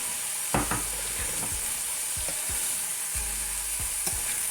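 Beef steaks sizzle steadily in a hot frying pan, with occasional thumps and scrapes of pieces being moved around.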